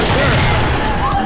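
A quick-scope sniper shot rings out in a Call of Duty match amid dense, continuous gunfire and explosions, the whole mix loud and saturated throughout.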